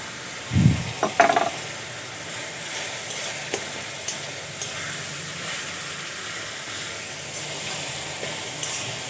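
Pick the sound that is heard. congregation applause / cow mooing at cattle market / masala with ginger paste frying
masala with ginger paste frying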